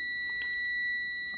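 A continuity tester's steady electronic buzzer tone holds continuously through the whole moment, high and clear, with faint handling noise underneath, while testing a water dispenser thermostat.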